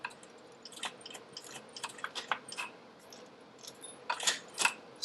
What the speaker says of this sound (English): Let's see if it shifts gears.